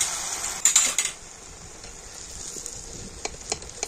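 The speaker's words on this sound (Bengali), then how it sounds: "এবার এটা তেলের মধ্যে আমি ডুবিয়ে দেবো" Batter dipped into hot oil gives a soft, steady sizzle, with a few light clinks of a ladle or utensil near the start and scattered small pops throughout.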